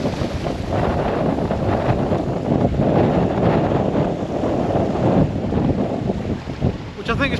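Strong wind buffets the microphone at a wild campsite near waterfalls, a steady loud roar that lasts throughout and eases briefly near the end.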